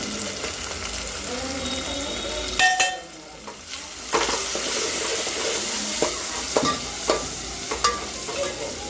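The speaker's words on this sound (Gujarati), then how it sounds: "ઘડીક વાર ગુવારને તેલમાં સડવા દે" Cluster beans (guar) frying in oil, with close sizzling broken up by several sharp clatters and scrapes of stirring and a short lull near the middle.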